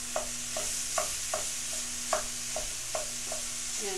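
Meat is broken up in a hot pan for shakshuka, with a spatula scraping and tapping in a steady rhythm of about a dozen strokes. A constant bright sizzle runs underneath.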